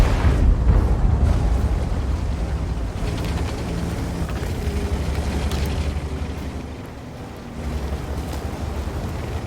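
Heavy artillery fire in a Soviet tank video game booms and rumbles through a long, deep, continuous roar that swells loudly at the start and stays dense throughout, with a brief dip near the end.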